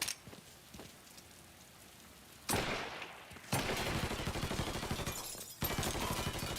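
Bursts of rapid gunfire in the video game Mafia III crackle in dense volleys, starting and stopping, against a hissing background, fairly close and loud.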